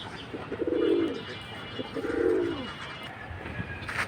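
Gorra pigeons, red and milibar types, give two soft, low rounded coos, one after the other, close by, with faint chirps and market noise in the background.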